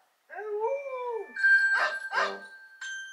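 A Google Assistant dog timer alert: a short dog howl sweeps downward, then a couple of yelping barks follow, with a steady electronic tone behind them and a final bark near the end, all loud and close.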